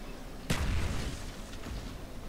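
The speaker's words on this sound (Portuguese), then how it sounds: "Quase eu mesmo me matei na granada." A grenade explodes in Call of Duty: Black Ops, a single sharp, loud blast followed by a rumbling low tail that fades slowly, with lighter gunfire pops after.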